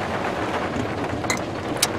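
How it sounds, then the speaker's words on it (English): Rain falling outside during a rainy day, a steady broadband hiss with no talk, holding an even level throughout and showing a couple of faint brief crackles. "And it's raining outside!"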